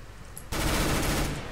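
Gunfire in the CS:GO video game, a sudden loud burst of rapid automatic shots that starts after a brief quiet moment and keeps going without a break.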